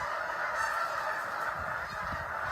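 Canada geese returning to Québec in March honk continuously in a dense flock, a loud, unbroken chorus with no voices.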